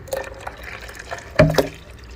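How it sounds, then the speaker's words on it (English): Water pours into a soursop juice mixture with nutmeg, cinnamon and vanilla, a brief close splash and trickle with a sharper gush near the end. "Now we're going to add about 2 to 3 cups of water right to this."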